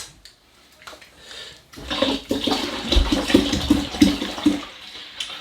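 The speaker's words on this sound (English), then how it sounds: "so I add some more water" Water is added to a container of honey must while making mead in a kitchen, starting quietly and then a loud, steady gurgling pour with bubbling glugs, close by and without talk.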